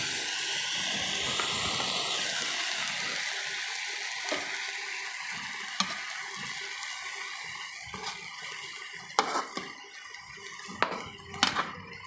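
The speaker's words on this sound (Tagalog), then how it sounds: "ilalagyan ko rin siya nitong pork broth" Pork broth poured into a pan with tofu and pork, sizzling and hissing steadily as it simmers, with a few sharp clicks and clatters near the end.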